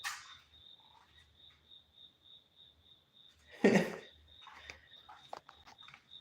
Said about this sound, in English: Crickets be loud as hell.